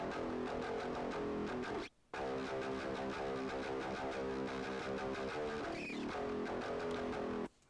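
Music track with the low end stripped out and heavily distorted, a harsh, thin, crushed wash of sound with a brief dropout near two seconds and another at the end, fairly quiet overall.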